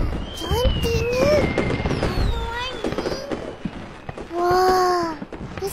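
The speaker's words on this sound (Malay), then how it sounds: "Bunga api. Jom tengok." Cartoon fireworks at a Chinese New Year celebration whistle upward in several rising streaks, ending with one bright, sustained burst, while children's voices chatter over them.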